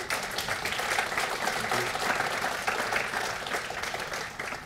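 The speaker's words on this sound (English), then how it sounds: "Please join me in a round of applause for our panel." Steady, moderately loud audience applause for panel discussion speakers at a supply chain security event, continuous dense clapping from a room full of people with no voices over it.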